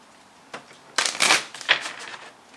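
Soul's Journey lesson cards being shuffled: a few quick close riffling bursts over about two seconds, crisp and moderately loud with no talking.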